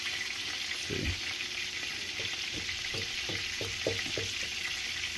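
Steady hiss of flour-dredged morel mushrooms frying in a pan, crackling pops, a few scattered low bumps as pieces shift; close and continuous.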